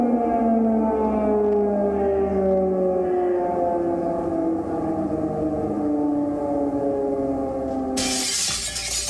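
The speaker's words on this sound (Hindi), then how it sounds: "ये एयर सायरन जो हैं वो वहां पर लगातार बजाए जा रहे हैं।" An air raid siren wails steadily in Ukraine during an attack alert, a loud sustained tone that slowly falls in pitch and is cut off near the end by a burst of noise.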